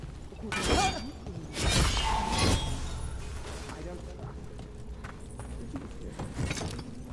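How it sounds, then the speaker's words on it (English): Pots shattering in the video game Dragon Age: The Veilguard, several crashing breaks with thuds and footsteps, heard under someone talking. "There's some asshole smashing pots outside."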